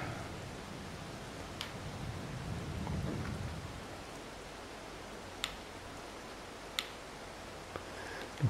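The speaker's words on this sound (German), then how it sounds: "wenn es ja regnet" Steady soft rain hiss in the video game Farming Simulator 22, with a low rumble swelling midway, and a few sharp ticks of drops scattered near the end, fairly quiet overall.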